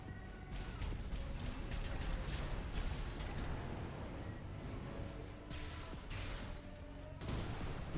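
Gatling cannons fire in Armored Core VI, a continuous, rapid, rattling barrage with mechanical clatter, heard fairly faint and distant throughout without a break.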